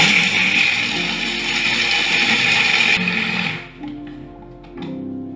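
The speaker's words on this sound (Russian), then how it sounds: "Измельчаю орех, мелкую крошку." An electric chopper grinds walnuts into fine crumbs for a cottage-cheese and carrot casserole, a loud steady whirring that runs for a few seconds, then cuts off, leaving a quiet rattle and a brief clatter.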